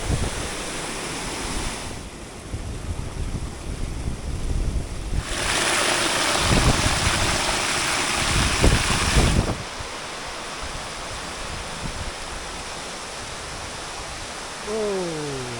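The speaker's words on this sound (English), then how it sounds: "I'm now at Basket Swamp Falls, and I don't think I've ever seen this much water in it" Waterfall at Basket Swamp Falls in heavy flow: a steady broadband rush of falling water, loud and constant throughout, swelling louder in the middle stretch, with wind buffeting and no talking.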